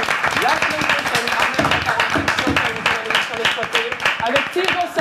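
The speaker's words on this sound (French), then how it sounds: "Vous pouvez m'applaudir." Studio audience at a French television show claps in a lively, close burst of applause, with a voice talking over it throughout.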